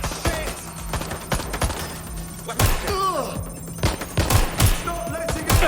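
Gunfire in the video game Watch Dogs Legion, set in London: bursts of rapid shots and loud thuds over several seconds, mixed with in-game effects and sweeping tones.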